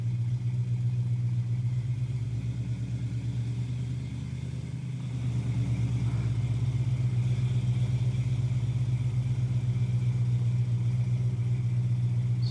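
A Chevrolet Nova SS engine fitted with Holley Sniper EFI idles steadily with a loud, continuous low rumble, a brief dip in the middle before the idle settles back to an even, throbbing hum.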